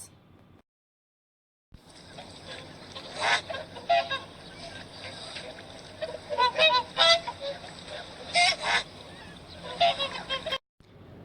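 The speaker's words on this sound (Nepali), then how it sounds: "राजहाँस।" A goose honks in a series of loud, nasal bursts, some single and some in quick clusters, after a brief silent gap at the start, with no talking.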